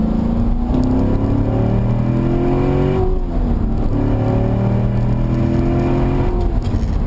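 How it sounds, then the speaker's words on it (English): A C7 Corvette engine revs up and down repeatedly through its stock exhaust, the note rising and falling in loud, close, throaty sweeps. "I think it still sounds awesome, even though I don't have the performance exhaust"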